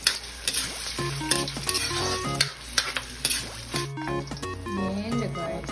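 Chopped onion hits hot oil in a preheated pan and sizzles steadily, with stirring scrapes and wet crackles close up, while background music plays underneath.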